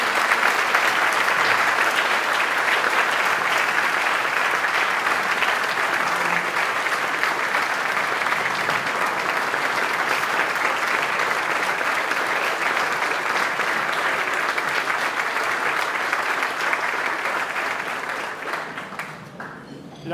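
An audience at a city's annual State of the City address applauds its police force, with sustained loud clapping from a large crowd for about eighteen seconds before fading out.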